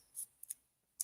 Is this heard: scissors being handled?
yes